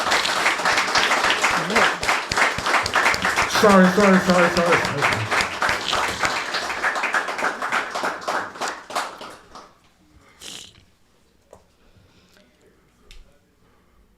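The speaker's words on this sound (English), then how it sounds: "Y'all can clap" Audience clapping and applause after a hip hop legend's remark, dense and loud with voices mixed in, tapering off around ten seconds into scattered claps and quiet.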